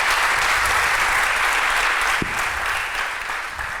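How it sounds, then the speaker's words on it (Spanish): Steady audience applause fills a live talk-show event, broad and continuous, holding at full strength before easing slightly toward the end. "Un aplauso para Beatriz Izquierdo"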